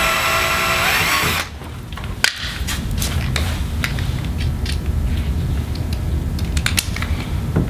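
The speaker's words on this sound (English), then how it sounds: "drill that first hole" A power drill bores the first hole through a kayak hull to mount a pad hook for a YakAttack LeverLoc anchor trolley, a steady close whine running for several seconds after a brief pause, with a few sharp clicks.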